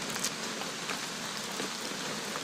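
Steady rain falls in the video game What Remains of Edith Finch, a soft, continuous hiss of drops on surfaces, even and fairly quiet throughout, with no voices.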